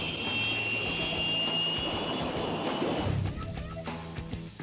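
A HondaJet business jet's engine gives off a loud, steady turbine whine with a high ringing tone, then rumbles and fades away toward the end.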